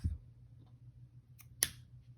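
Scissors snip off a yarn end on a crocheted amigurumi otter piece. A faint rustle comes first, then one crisp, close snip, alone in a quiet room.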